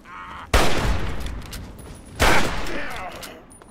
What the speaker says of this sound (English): He threw a freaking grenade at me.